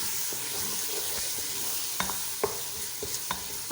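Onions shallow frying in a pan for shalgam gosht, a steady hiss of sizzling oil with occasional spoon scrapes and light clinks of stirring, close and moderately loud.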